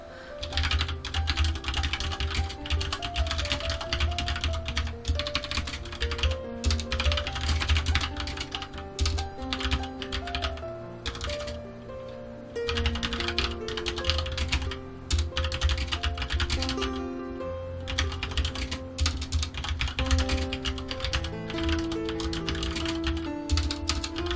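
Rapid, continuous clicking of keys on a computer keyboard, brisk and close, with faint tonal music in the background.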